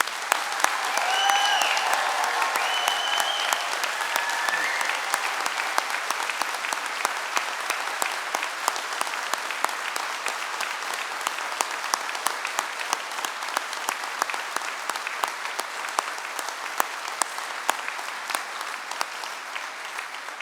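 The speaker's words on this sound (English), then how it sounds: "giving all of our amazing graduates a huge round of applause" A large audience at a university degree ceremony in London applauds its graduates, a dense, loud, sustained wash of clapping that holds steady for the full stretch with slight crowd murmur beneath.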